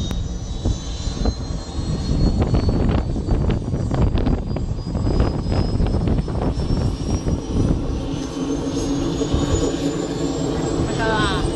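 A Bell JetRanger 206 helicopter takes off, its turbine engine whining and rising in pitch over a loud, rumbling rotor roar, close by and sustained throughout, with people talking over it.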